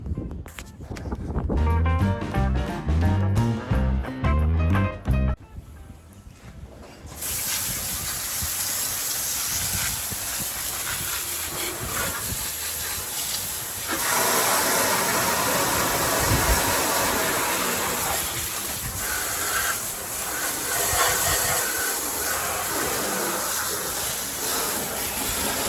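A hose sprays water over a degreased 1965 Plymouth Barracuda engine, a steady hissing, splashing rush that starts after a short burst of music and continues loud and unbroken, shifting in intensity as the stream moves.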